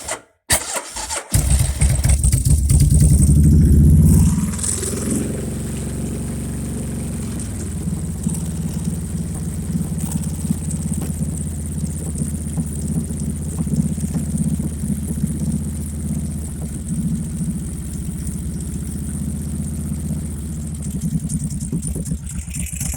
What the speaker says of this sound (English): I got the clutch cable tied back so I don't have to hold it in while I'm starting it